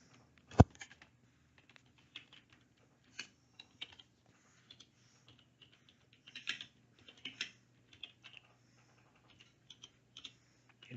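Keys clatter on a computer keyboard as code is typed into a CSS stylesheet, sparse and irregular taps with a louder single click near the start, close and quiet with no talking.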